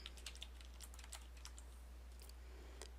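Soft typing on a computer keyboard while a chart is being made in an accounting lecture: a quick, irregular run of light key clicks over a steady low hum, fairly faint and close.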